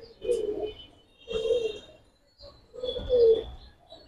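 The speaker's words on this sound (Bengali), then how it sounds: "বাবা মা অনেক সুন্দর কবুতর, অনেক সুন্দর কবুতর।" Fighter pigeons at the loft coo three times in slow, evenly spaced, close, moderately loud calls, with faint chirps from other birds behind them.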